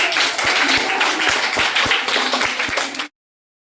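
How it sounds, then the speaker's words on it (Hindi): An audience at an International Women's Day event claps, a dense burst of hands that carries on for about three seconds and then stops abruptly. "चलिए मोनालिसा के लिए तालियां।"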